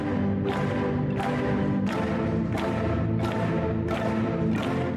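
A huge mass of 1,276 marimbas plays together in a dense, hypnotic wash, with rhythmic swells of struck bars recurring roughly every two-thirds of a second.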